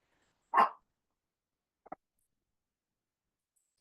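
Dogs bark in a quiet room: one clear, fairly close bark, then a softer double yap a moment later and another brief bark at the end, separated by near silence.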